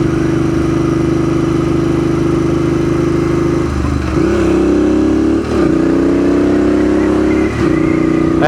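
A Royal Enfield Interceptor 650 motorcycle rides the Cabot Trail in Cape Breton, Nova Scotia. Its engine drones steadily and loudly, then the throttle rolls off and comes back on several times, with the pitch dipping and climbing again.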